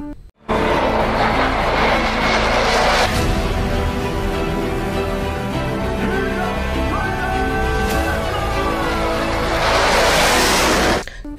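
A green toy fighter jet plays a loud, continuous electronic jet roar with a rising whine. It sounds close and lasts about eleven seconds before cutting off abruptly, with no talking.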